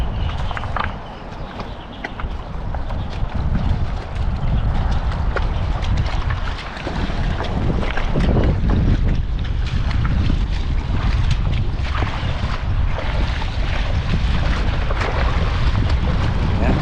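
Strong wind blows at sea, buffeting the microphone with heavy rumbling gusts and roaring noise, loud and continuous with dips and surges, alongside a boat on the water.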